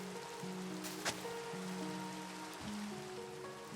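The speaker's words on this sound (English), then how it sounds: "And of course it started raining, but that's all right." Steady rain falling in Minecraft, a soft continuous hiss of drops spread evenly across the whole stretch alone, with quiet musical tones running underneath.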